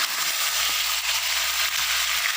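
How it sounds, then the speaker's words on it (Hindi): Chicken frying in a pan, a loud, steady sizzle with scattered crackles and pops and a low hum underneath, no talking. "तो अब अच्छी तरह फ्राई कर लेंगे"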